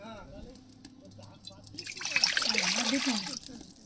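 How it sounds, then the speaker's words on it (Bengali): Water poured into a cooking pot for broken rice (khud bhat), a trickling, splashing pour that starts midway and runs about a second and a half. A faint voice and background hum come before it. "আমাকে আগে জল দেবো, আগে কতটা অল্প জল দিতে"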